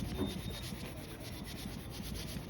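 A cloth rubs wax onto the polished cylinder head of a Yamaha Banshee engine, making a steady, close, soft scrubbing sound with faint repeated strokes and no talking.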